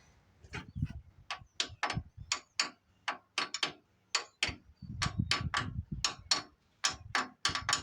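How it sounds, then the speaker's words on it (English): Part tapped onto the crankshaft of a blown 318 engine from an 89 Ramcharger, a series of sharp close metallic taps in uneven clusters, with low mumbled handling noise between them. "Might have to tappy tap that one on there."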